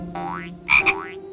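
A big cartoon frog croaks in a bright, stylized voice, giving a few quick rising croaks in a row, loud and close with no talking.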